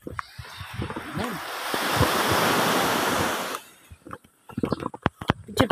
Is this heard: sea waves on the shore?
yes